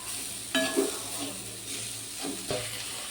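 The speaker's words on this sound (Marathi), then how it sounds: "आता आपण त्यामध्ये क्रश केलेल्या वाटाणे टाकूया ते पण चांगलं थोडंसं परतून घेऊया" Crushed green peas sauté in a pan with oil, curry leaves and garlic paste, a soft sizzle broken by a few sharp scraping stirs of a spoon against the pan.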